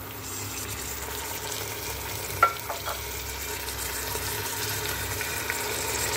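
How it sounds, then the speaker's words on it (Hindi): Mutton frying with browned onions in a pot, a steady sizzle with a few clinking stirs of a spoon against the metal, moderately close and without speech. "गोश्त डाल दें, इसको थोड़ी देर चलाएंगे"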